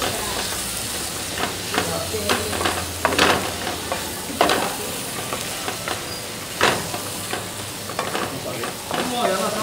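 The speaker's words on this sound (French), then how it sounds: "Et je remue le beurre, l'ail, le tout mélangé, je remue ça un peu." Butter, garlic and apple stirred together in a hot pan, a continuous sizzle broken by repeated scraping strokes and utensil knocks at an uneven pace, up close and fairly loud.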